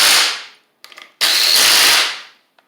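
A Craftsman 20V cordless power tool breaking a fastener loose, two loud bursts of whirring separated by a short rattling pause, close and harsh, with a faint click at the end.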